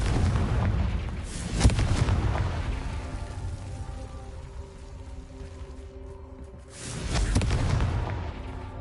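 Confringo spell blasts in Hogwarts Legacy: a loud booming explosion with a sharp crack, a long rumbling decay, then a second heavy blast near the end.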